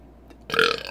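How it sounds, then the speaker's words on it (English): A single loud, close burp after drinking Olde English 800 malt liquor beer, rising abruptly after a quiet start and rumbling for about half a second. "These burps are like therapeutic, you know."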